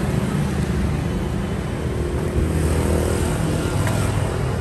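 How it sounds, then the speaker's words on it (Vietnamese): A 1.6-litre car engine running with a loud, steady broadband rumble that continues without a break from start to finish. "Nhưng chìa khóa bát là máy nổ luôn."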